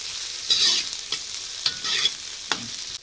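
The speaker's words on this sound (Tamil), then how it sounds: "நல்லா வதக்கிக்கலாம்" Two large onions are sautéed in oil for kadai chicken, with a continuous sizzle swelling in waves as they are stirred and scraped around the pan at close range.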